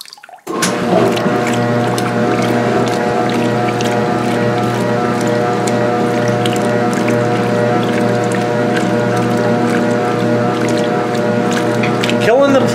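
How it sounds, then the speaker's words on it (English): A top-loading washing machine fills with water, a steady rushing flow with mechanical clicks and a low hum running continuously at close range, starting abruptly and staying loud throughout. "The machine is almost filled and it's going to start momentarily."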